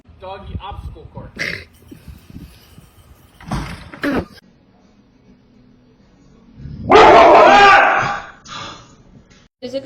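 A dog at play on a home obstacle course lets out a loud, harsh burst of barking near the end, after scattered thumps and light knocks, with people talking around it.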